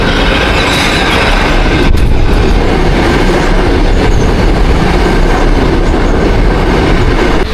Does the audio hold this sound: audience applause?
no